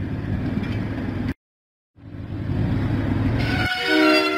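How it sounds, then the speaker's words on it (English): Diesel engine pulling into Knapford Station in a Thomas and Friends video game: a chugging train loop cuts out briefly, then resumes and ends with a bright horn toot. "Diesel arrived proudly at Knapford Station."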